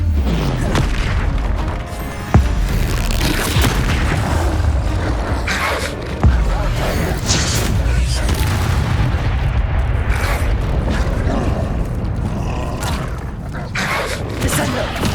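Confringo fire spells from the video game Hogwarts Legacy go off in a dense, continuous barrage of loud booming explosions over a constant roar of battle, with sharper blasts punching through now and then.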